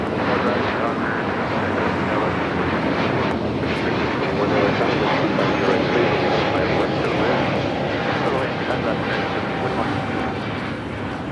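Fixed-wing airliner at Los Angeles LAX airport, a loud sustained engine roar filling the scene throughout, with radio-style voice chatter running over it.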